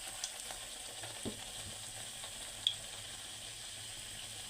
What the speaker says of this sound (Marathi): तर मस्त अशी आपली पुरी एक बाजूने तळल्या गेलेली आहे उलटून घेऊया